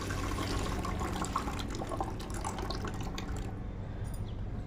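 Water splashes and trickles steadily while clothes are washed by hand at a floor-level drain, a continuous close wet wash with small drips and no talking.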